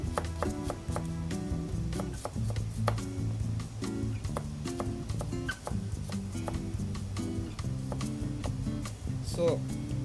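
A knife chops garlic on a board with quick, irregular taps. The chopping runs throughout under a person's talking.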